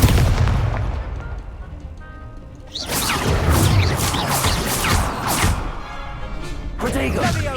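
Confringo blasting spell in the Hogwarts Legacy video game, loud booming blasts and crashing impacts with a rumbling low end, repeated in bursts over a dense game soundscape while voices speak.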